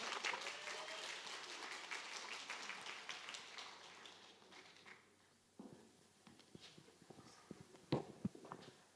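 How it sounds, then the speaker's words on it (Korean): Church congregation claps for a deacon's testimony and praise at a Thanksgiving Sunday service, a dense wash of applause that thins and fades after about five seconds into scattered, fainter claps. "뜨거운 박수 부탁드립니다."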